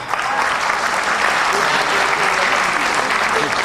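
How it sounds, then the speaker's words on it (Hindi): Dense, sustained applause from an audience at a comedy gathering, with elderly listeners clapping hard, a steady loud wash of clapping with voices mixed underneath. "बुजुर्ग लोग हैं वो तो इतना जोर जोर से तालियां बजा रहे थे"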